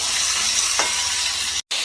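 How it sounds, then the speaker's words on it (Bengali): Vegetables with ridge gourd fry in a pan, a steady close hiss with a brief scrape of stirring near the middle, then a short cut to silence at the end. "তো এটা ভাজা ভাজা হচ্ছে"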